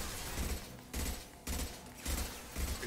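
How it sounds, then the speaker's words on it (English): Heavy bursts of gunfire with lots of bullets in the video game Mass Effect 2, several loud clustered volleys separated by brief lulls, close and dense. "That was a lot of bullets."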